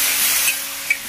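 Ginger pieces and green chilies drop into hot oil for a vegetarian flat bean dish, giving a steady bright sizzling hiss with a couple of brief sharp crackles, close and fairly quiet.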